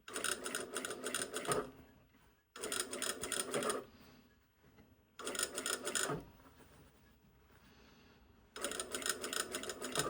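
Short runs of a sewing machine stitching a facing onto a bodice, each a few seconds of fast, even clatter, separated by quieter pauses while the fabric is pivoted.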